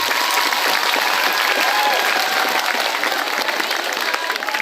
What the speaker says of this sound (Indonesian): Kasih apresiasi, tepuk tangan.